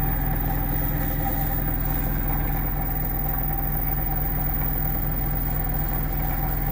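An experimental magnetic switching motor with an SSR module, driven at full power around 52 volts and 1300 RPM, gives a steady, loud, continuous hum with a constant low drone, unbroken and alone throughout.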